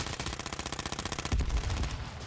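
Gunfire in the online battle-royale game H1Z1: a fast, steady string of close, loud shots runs throughout, broken partway through by a heavier, deeper boom before the rapid firing continues, with no voices over it.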